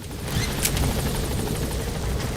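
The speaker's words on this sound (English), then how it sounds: "Let's go ahead and get on the chopper and leave the mission area." A helicopter in the Metal Gear Solid 5 video game thumps with fast, steady rotor chopping over a loud, continuous engine roar.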